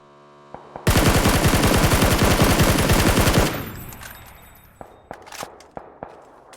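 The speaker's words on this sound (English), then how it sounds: "we're gonna have to shoot this guy with the assault rifle" Rapid automatic assault rifle fire in a shooter video game, one loud sustained burst of about three seconds, followed by a few scattered single shots and clanks.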